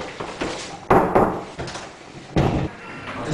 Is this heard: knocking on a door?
yes